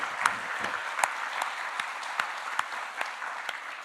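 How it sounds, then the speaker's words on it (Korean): Church congregation clapping in thanks during a Korean worship service, a moderate crowd of hands with distinct sharper claps standing out at an uneven beat, no talking over it. "그럼 우리 감사로 하나님 앞에 박수를 드리도록 하겠습니다"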